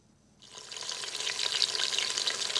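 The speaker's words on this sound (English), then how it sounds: "I'm sauteing the pork butt." Pork butt and onions start sautéing in an Instant Pot, a bright sizzle rising from near silence and building to a steady, close, loud fry with no voices.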